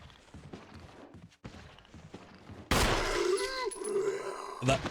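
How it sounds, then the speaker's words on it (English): Gunshots at a zombie in the Resident Evil game, a sudden loud report followed by ringing, reverberant game sounds and a thudding impact near the end. "That sounded like a headshot."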